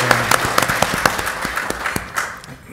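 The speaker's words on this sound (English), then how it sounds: "let's give him a big round of applause" An audience at an aerospace industry presentation claps for a guest, with sparse, distinct individual claps standing out near the start before thinning and fading over a few seconds.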